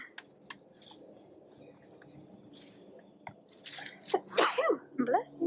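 A sharp sneeze bursts out near the end, followed by quiet voices speaking, after a stretch of soft rustling and faint noises.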